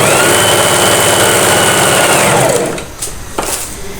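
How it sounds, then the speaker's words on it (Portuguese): A sewing machine runs a zigzag stitch over an existing seam on lace panties, a loud, fast, steady mechanical whir for about two and a half seconds, then stopping, leaving faint clicks and handling noise. "A gente vai seguir fazendo a costura do rebatimento em cima dessa costura aqui que nós costuramos a"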